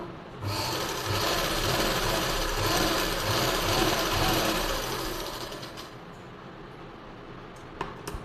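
A sewing machine runs steadily, stitching the lining of a blouse in a continuous close whir for several seconds before stopping, followed by a few faint clicks.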